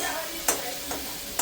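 Tomatoes fry and sizzle softly in a pan while a spoon scrapes and stirs them in three quick strokes, faint and close.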